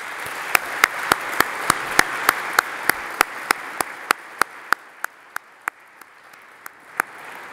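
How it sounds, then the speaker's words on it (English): A conference audience at a Netherlands Ministry of Defence closing session gives sparse, evenly spaced claps, a steady slow rhythm of sharp individual hits rather than a full ovation, fading slightly toward the end with no talk over it. "I would like to ask you to give a round of applause for all the colleagues from the Netherlands Ministry of Defence and the Ministry of Foreign Affairs"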